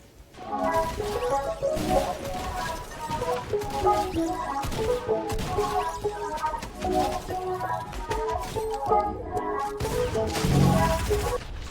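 Rapid bursts of gunfire from an attack shotgun in a Fortnite match form a dense, irregular string of sharp cracks and bangs, mixed with game effects and musical tones throughout.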